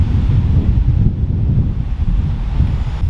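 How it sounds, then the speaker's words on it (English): Strong wind roars steadily outdoors at a castle, a loud continuous low rush buffeting the microphone for the whole stretch with no voices. "The wind's going fucking ballistic."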